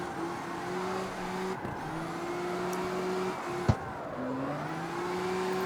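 A Mustang engine droning steadily while drifting in the street racing game CarX Street, with sustained tonal exhaust that drops at gear changes and recovers, plus a brief sharp click near the end; no talking.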